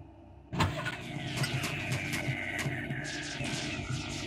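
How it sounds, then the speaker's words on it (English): Car engine noise from a PSP driving game running on a Raspberry Pi 4 emulator: a steady, fairly loud engine drone with rising revs that starts abruptly and continues throughout, without talk. "We're in a car."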